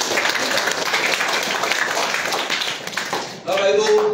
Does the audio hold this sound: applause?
yes